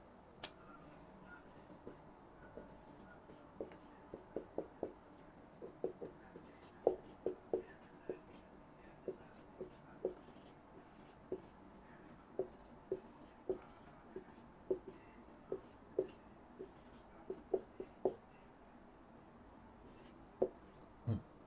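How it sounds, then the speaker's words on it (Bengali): A pen scratches out capital letters of the alphabet on paper during a Swedish alphabet class, with faint, close strokes and taps coming in irregular clusters against a quiet room. "তা আমি বড় হাতে লিখব"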